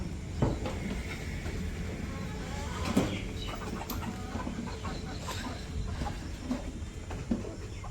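Chickens cluck intermittently at a moderate distance on a rainy day, with scattered short calls standing out over a steady broadband hiss of rain.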